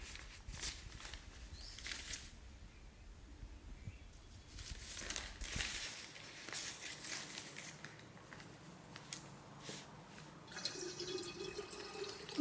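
Rice-washing water and starch being poured into a clay pot, with steady splashing and trickling water close by and brief crinkling, continuing throughout at a moderate level.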